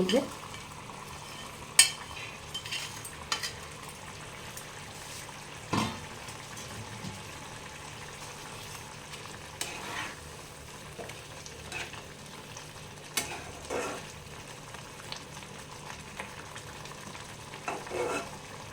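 A small-fish curry bubbles in a pan on a gas stove, giving a faint, steady simmering hiss broken by occasional soft clicks and clinks, with no voices.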